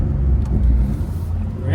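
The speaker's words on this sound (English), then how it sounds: "I do like that startup roar" A BMW 440i Gran Coupe engine on an MHD tune rumbles low and steady just after startup, heard close and continuous through a short stretch.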